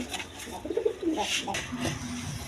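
A pair of beauty pigeons coo softly in a few low, rounded calls over faint background noise, fairly close by.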